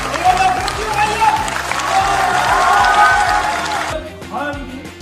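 Loud audience applause at a youth eloquence contest swells and then cuts off, followed by someone speaking over a microphone.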